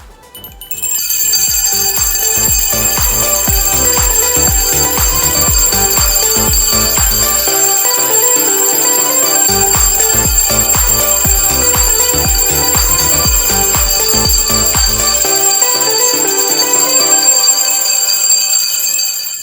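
A bell rings at the first-bell ceremony opening the school year on September 1: a loud, dense, metallic ringing that runs continuously for almost twenty seconds, with no voices over it.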